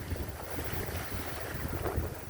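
A sailboat with a reefed sail runs fast on a broad reach in Plumper Sound, with steady rushing wind, wind buffeting on the microphone and water washing along the hull, continuous and close.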